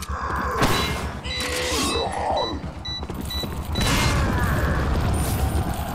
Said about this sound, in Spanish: Claro, la explosión le está dando. Aunque él se cubra,